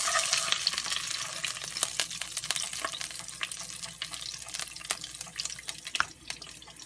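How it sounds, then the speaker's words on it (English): Ricotta-stuffed Italian meatballs simmer in tomato sauce thinned with water, giving a steady, close bubbling sizzle with scattered sharp pops and ticks throughout and no voices. "covering these, and letting it simmer until the meatballs are cooked through"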